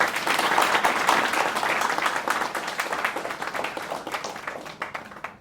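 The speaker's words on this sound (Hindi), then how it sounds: "इसके लिए जोरदार तालियां।" A theatre audience applauds loudly after a stage performance of Oedipus, dense clapping from many hands that holds steady and then begins to thin out toward the end.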